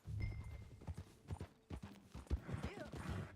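Horse hooves in Red Dead Redemption 2 keep up a steady clip-clop rhythm during a ride, close and moderately loud, with light tack jingles and faint voices underneath.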